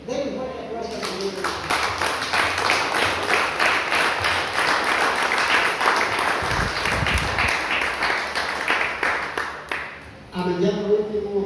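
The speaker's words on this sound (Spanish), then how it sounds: "Denle un fuerte aplauso al Señor." Church congregation applauds steadily for several seconds after a Spanish-language sermon, a dense wash of clapping that rises and then stops, with speech heard briefly before and after.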